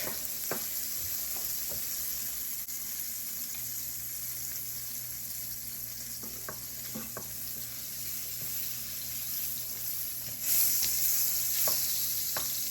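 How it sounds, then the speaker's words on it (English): About two tablespoons of butter melting in a pan, a steady close sizzle with soft faint clicks and scrapes, a brighter hiss rising near the end. "About 2 tablespoons of butter. Let that melt."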